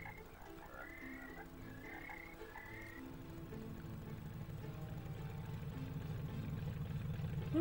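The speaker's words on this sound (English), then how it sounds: "Ooh, frog!" A frog croaks in the intro of the video game Alone in the Dark, a few repeated rhythmic calls over a steady low rumble that swells and takes over in the second half.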